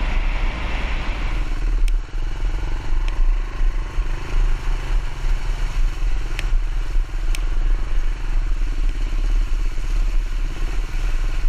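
A Kawasaki KLR650 motorcycle rides off-road over wet ground in Illinois, its engine a steady, close, continuous drone for the whole stretch, with a few brief clicks and clatters above it and no talking.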